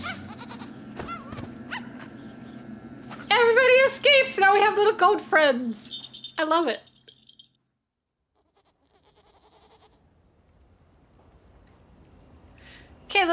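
Small goats in the video game Blanc bleat in a quick cluster of loud, wavering calls close by, followed by a quiet stretch with faint ambience and a brief sound at the end; a voice speaks briefly at the end.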